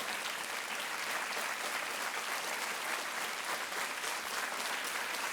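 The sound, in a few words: audience applause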